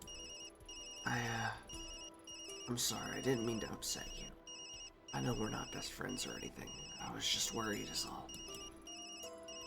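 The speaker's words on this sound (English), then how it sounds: "that's my phone" A mobile phone ringtone chimes repeatedly in the video game Tokyo Dark, a steady patterned electronic tone running beneath ongoing dialogue between characters.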